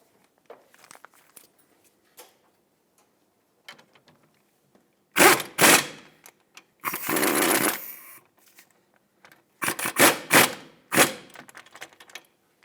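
Bolts run down by a power tool on the steering knuckle of a 2003-2008 Toyota Matrix, loud close bursts of ratcheting rattle in several separate runs, with quiet clicks and handling noises between.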